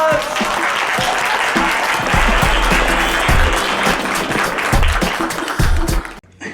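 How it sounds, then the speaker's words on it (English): Steady, loud applause from an audience at a poetry performance event, dense clapping that sustains for several seconds with a low rumble underneath before cutting off abruptly. "Round of applause."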